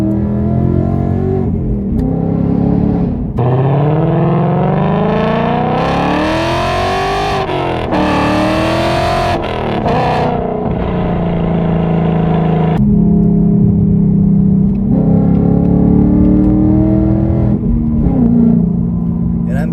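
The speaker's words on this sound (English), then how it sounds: "I did a really light pull, and the car sounds so good right now" A 2020 Ford Mustang GT with long tube headers and a Refined Mustang exhaust revs and pulls through the gears, loud and close, its engine note rising and dropping with each shift while someone talks over it.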